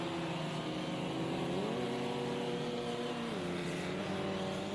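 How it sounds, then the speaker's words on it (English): A damaged race car engine in a sim racing game drones steadily with a buzzy, rough tone, its pitch rising and dipping slightly as it runs, continuous and moderately loud. "His car doesn't sound like it's in great condition."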